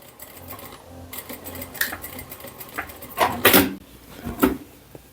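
A sewing machine stitches the edge seam of a fabric tote bag in short bursts, with a couple of louder whirring runs near the end, close and fairly quiet.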